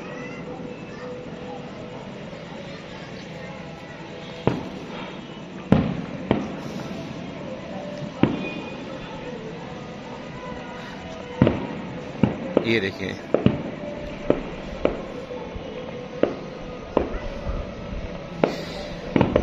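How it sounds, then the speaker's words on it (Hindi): Fireworks burst at night during the Urs festival at a shrine, with sharp pops and cracks scattered across the clip, growing denser toward the end, while someone talks over a steady background murmur. "और आतिशबाजी हो रही है, एक अलग ही माहौल है।"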